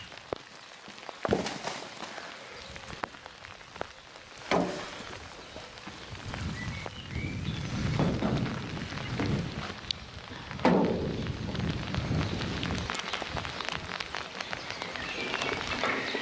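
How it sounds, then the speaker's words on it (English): Steady rain falling and pattering on a surface, with scattered louder drips and knocks throughout; no voices. "plenty of rain coming down at the moment"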